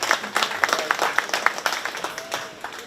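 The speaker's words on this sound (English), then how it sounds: "let's give Laramie Jackson a nice round of applause" An audience at a county fair 4-H/FFA swine show claps for a few seconds, a scattered round of hand claps that thins out toward the end.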